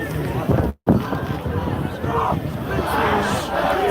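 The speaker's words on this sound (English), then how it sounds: "Give her a big round of applause" A protest crowd at a rally for Palestine cheers and shouts for a speaker, a loud mass of voices with a brief sharp break near the start before the noisy cheering swells again.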